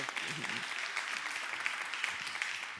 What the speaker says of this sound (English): Give my daughter, Karen, a big round of applause.